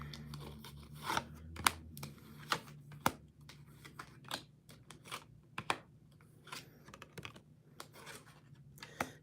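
Tarot cards are shuffled and cut with soft riffling, tapping and sliding sounds in irregular bursts, close up and fairly quiet.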